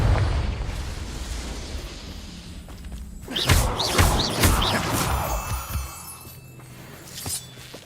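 The Confringo fire spell in the video game Hogwarts Legacy bursts with a sudden crashing blast and whoosh, followed by rumbling debris, among other combat effects and background music.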